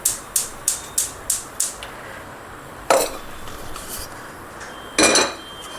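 A large pressure cooker being taken out and handled for chicken pulao, heard as a quick series of six sharp metallic clanks, then a pause and two heavier knocks of metal, close by with no talk.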